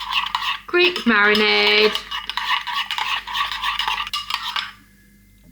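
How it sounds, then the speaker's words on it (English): A spoon clinks and scrapes around a bowl of Greek chicken marinade, close and busy, with a voice talking over the start of the stirring. "give it all a lovely stir until you have a delicious"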